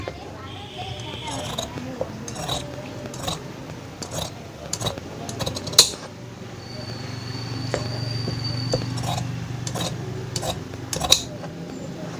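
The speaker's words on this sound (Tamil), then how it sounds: "இப்போ இந்த ஸ்லீவை கட் பண்ணி எடுத்துக்குவோம்" Scissors snip through the fabric of a sleeve for a size 38 straight-cut blouse in a row of short crisp cuts, with background noise and some talk, and a fainter steady hum running through the middle.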